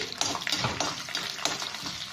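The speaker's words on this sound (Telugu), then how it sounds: "పోపు వేగుతుంది." Mustard seeds, chana dal and urad dal tempering in a little oil for cauliflower curry, a steady close crackling sizzle with small pops and stirring scrapes throughout.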